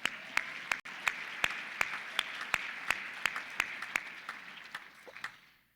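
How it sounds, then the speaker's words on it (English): An audience at a community foundation's annual meeting applauds a volunteer, a steady round of clapping with sharp individual claps standing out, moderately close, fading out at the end. "Oh yeah, we can clap for Carol"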